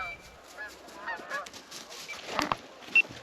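A flock of geese honks in the distance in Scotland, faint scattered calls drifting overhead with a few sharper honks near the end.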